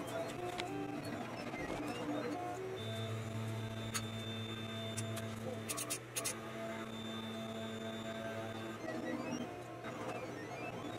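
A FLSUN QQS delta 3D printer probes a series of bed-levelling points, giving a steady motor whine and hum with faint ticking and a few sharp taps as the effector touches down, close and fairly quiet.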